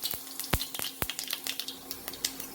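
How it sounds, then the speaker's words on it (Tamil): Fennel and fenugreek seeds fry in hot oil in a pan for a Chettinad tamarind curry, giving soft crackles and sharp pops at irregular intervals, faint and close with no talk. "அதில் சோம்பையும் வெந்தயத்தையும் முதல்ல போட்டு பொரிய விட்டுக்கலாம்."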